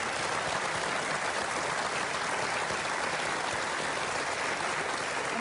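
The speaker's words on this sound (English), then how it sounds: "People were applauding." Town hall audience applauding in a steady, dense wash of clapping that fills the whole stretch, loud and continuous without pauses.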